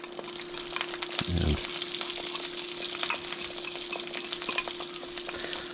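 Chorizo sizzles steadily in a pan for a breakfast of chorizo and eggs, loud and close, with a brief clatter of stirring partway through and a single spoken word.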